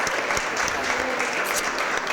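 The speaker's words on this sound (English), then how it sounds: "Let's give him one more round of applause." A room of attendees at a formal meeting gives one more round of applause, brisk clapping from a modest group with some overlapping voices mixed in, lasting about two seconds.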